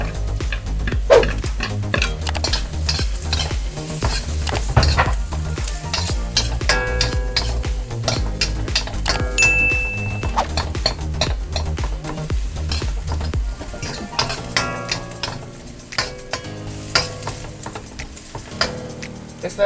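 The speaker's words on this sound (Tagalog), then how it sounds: "Lagay na natin ang sibuyas at ang bawang." Onion and garlic sizzle steadily in a hot pan while a utensil stirs and scrapes against the metal, close and continuous, with light clinks throughout.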